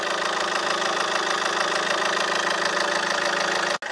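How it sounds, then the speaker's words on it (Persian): A steady diesel engine idles close by with a continuous low rumble and faint knocking, cutting off abruptly near the end. "این حالت موتور ماشین"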